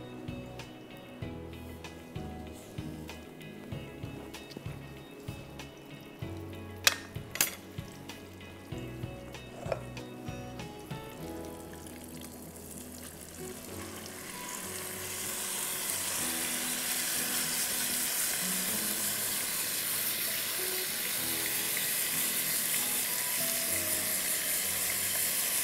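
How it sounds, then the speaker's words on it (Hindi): Garlic sizzles in hot oil and butter, starting with scattered clinks and stirring, then swelling into a steady, loud hiss of frying that carries on alone. "हीट ऑयल एंड बटर, इसमें जाएगा गार्लिक"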